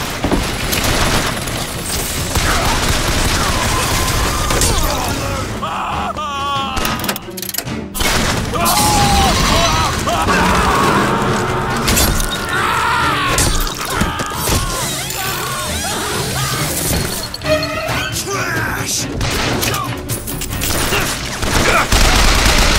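Sustained firefight in BioShock Infinite: dense, loud gunfire with booms, crashes and mechanical clatter running throughout, with a few brief dips and bursts of shouting layered over the battle.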